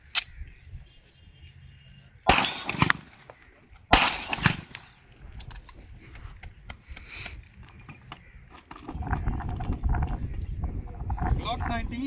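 A Canik Piranha 9mm pistol fires two sharp, loud shots about a second and a half apart, then a quieter stretch of clatter and low rumbling handling noise.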